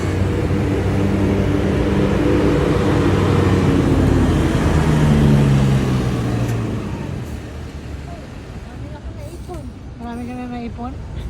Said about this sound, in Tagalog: Yan, may parating din na bus.